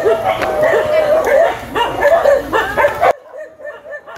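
At a shelter for abandoned dogs and cats, a crowd of dogs barks and yips in rapid overlapping bursts, loud and near, with voices mixed in before the din cuts to a fainter tail.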